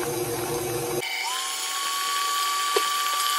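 An electric mixer whirs steadily through dessert batter, a constant high motor whine that shifts pitch once as the speed changes, close and continuous with no talking.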